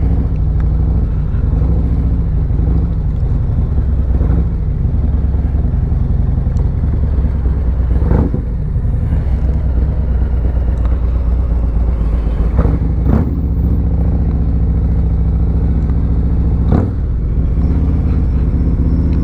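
Heavy road traffic around a Harley-Davidson motorcycle on the move: a steady low engine rumble with passing vehicles and a few sharp clattering bursts, and no talking.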